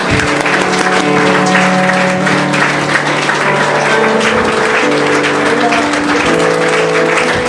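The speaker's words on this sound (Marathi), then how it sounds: "आपण जोरदार टाळ्या वाजवूया." A hall audience at a foundation day celebration breaks into loud, sustained applause, dense and even clapping throughout with no pause.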